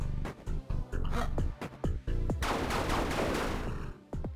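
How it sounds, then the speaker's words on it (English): Several sharp gunshots crack out in quick succession in the video game Exodemon, followed by a longer, denser burst of fire, loud and close with brief gaps between the first shots. "sniper shot, guys, sniper shot"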